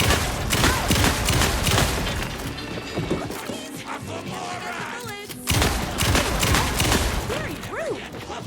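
A video game, Alan Wake II, produces bursts of gunfire as sharp, loud shots in quick clusters, with impacts and clattering effects between them and a voice speaking over part of it.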